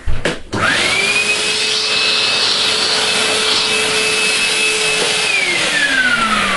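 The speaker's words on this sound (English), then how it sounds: "just hoover them up out of the way" A vacuum cleaner picks up fiberglass bits from a floor, starting with a couple of clunks, then spinning up to a loud, steady whine and roar that holds and drops in pitch near the end.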